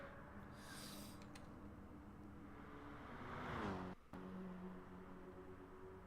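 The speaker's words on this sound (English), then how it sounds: "It was Ian in that Corvette that we were just hearing downshifting there." A Corvette in a 24 Hours of Le Mans racing game, its engine droning faintly and steadily before the revs swoop through a quick downshift midway, then settle back to a low hum.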